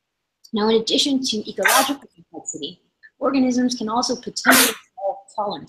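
During a university lecture on ecotoxicology, someone gives a brief, sharp sneeze that cuts through the lecturer's continuous speech.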